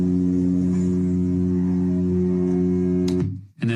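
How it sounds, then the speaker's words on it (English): A film projector motor gives a steady, close, buzzing hum with a strong low tone that holds evenly for about three seconds, then cuts off abruptly. "This is the projector motor hum."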